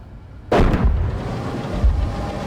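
Gunfire and artillery in the PC tank game Gunner Heat PC, a sudden loud blast followed by rumbling, crackling battle noise and a second heavy thump.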